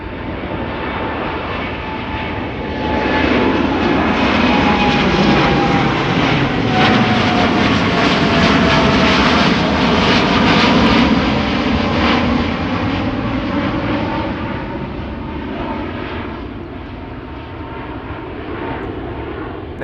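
An American Airlines jet airliner at Amsterdam Schiphol airport, bound for Philadelphia, rumbles past with a strong engine roar and a whining tone. The roar swells after a few seconds, holds loud through the middle and eases off toward the end.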